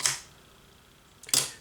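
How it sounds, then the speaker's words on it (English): Minolta X-1 film camera firing its shutter with the mirror flipping up, two sharp mechanical clacks about a second apart, close and crisp against a quiet room. "This one, the mirror flips up, the shutter crosses"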